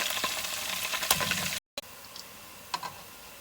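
Loud, steady sizzling of chicken frying in a hot pan after garlic and ginger, with a few stirring clinks, briefly cut off, then continuing more quietly.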